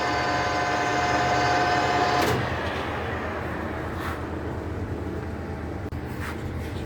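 A Colchester Triumph 2000 centre lathe runs forward at 840 RPM with a steady, loud mechanical hum and drone. A high whine drops away partway through while the motor keeps running, with no voices.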